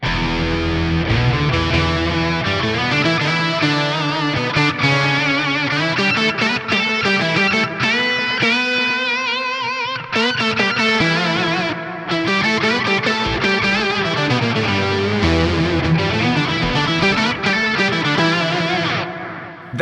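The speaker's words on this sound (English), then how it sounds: "Let's turn our delay on, but let's also add a reverb." A synth-like electric guitar lead plays a continuous melodic line, bathed in echoing delay and a wide reverb wash, loud and sustained.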